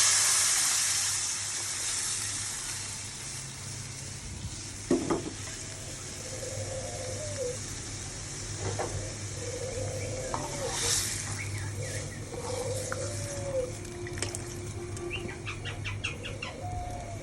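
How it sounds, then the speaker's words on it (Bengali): Onion, garlic and dried chilli tempering sizzles softly in a pan, with occasional utensil knocks and background birdsong and distant chickens clucking across a quiet setting. "এবার আমার এটা ভাজা হয়ে গেছে, আমি এবার ডালটা দিয়ে দেবো"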